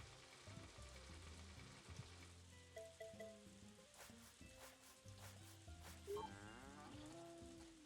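Cows low in the farm video game Story of Seasons: A Wonderful Life, their drawn-out moos rising and falling over cheerful background music, with soft patter and rustling from the game's soundscape and no voices.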